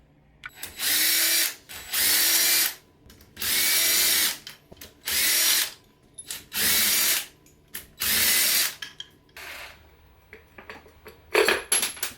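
Power tool bursts while engine bolts come off a Honda CBR600RR during a block swap: eight loud drill-like runs of about a second each in a steady rhythm, then quieter clinks and a few sharp ratcheting taps at the end, no talk.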